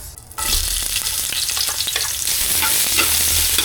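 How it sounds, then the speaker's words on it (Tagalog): Onion sautéing in hot oil for chicken afritada, a loud steady sizzle that jumps up sharply after a brief quiet start, with stirring scrapes in the pan and no voices. "Gigisa na tayo ng sibuyas."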